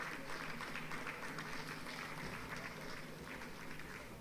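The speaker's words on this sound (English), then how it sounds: "Please, a round of applause for him." A round of applause for Commodore A.C. Uko at a Nigerian Navy stripes ceremony: steady, dense clapping from a sizeable crowd, held at an even level throughout and fading only slightly near the end.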